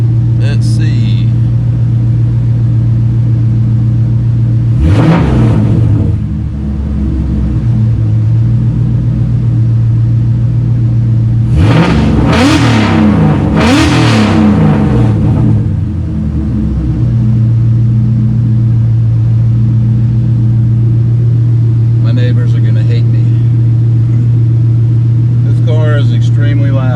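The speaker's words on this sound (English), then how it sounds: "Give you guys a couple revs." A tuned car engine, warmed up, idles with a loud, steady low rumble, then is revved sharply three times, each rev a quick rising roar that falls back to idle, followed by faint sounds near the end.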